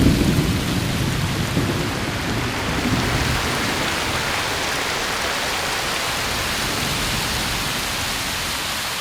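Heavy rain pounds steadily on an umbrella during a lakeside canoe trip, a dense, loud, continuous roar with low rumbling thunder rolling underneath early on.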